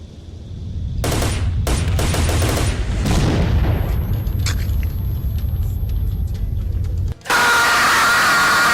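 Rapid bursts of gunfire crackle over a loud engine rumble in the video game S.T.A.L.K.E.R.: Shadow of Chernobyl, continuing for several seconds before a harsher hiss takes over.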